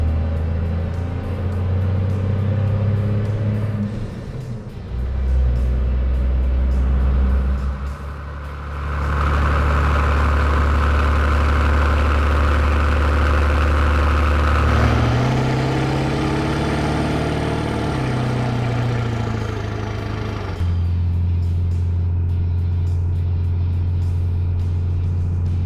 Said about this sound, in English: having an industrial grade diesel engine stuffed in front of you with pretty much no sound deadening, and you ripping down the road, shifting your own gears